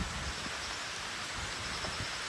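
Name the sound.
rain falling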